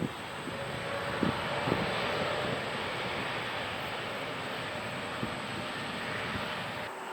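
An Ethiopian airliner taking off at Incheon Airport on runway 34 right, a steady broad engine roar heard from a distance and holding even throughout, with no talk.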